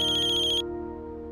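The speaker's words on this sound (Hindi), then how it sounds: "ये वकील साहब क्यों फोन कर रहे हैं" A phone ringing with an incoming call, a bright electronic ringtone that plays clearly for a moment and then cuts off, leaving a quiet low background with no talk.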